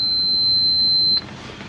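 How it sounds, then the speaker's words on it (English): An ohmmeter beeping on a continuity test of wires: one steady, loud, high-pitched tone held for just over a second before it stops abruptly, leaving quiet background noise. "you can hear the beeping on the ohmmeter"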